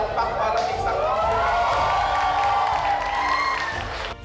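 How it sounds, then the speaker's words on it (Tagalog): A crowd at the Bulwagang Villegas in Manila City cheers and claps to welcome gymnast Carlos Yulo at his hero's welcome, a sustained loud wash of voices and applause that fades near the end. "Parang mahina yung palakpak para sa isang"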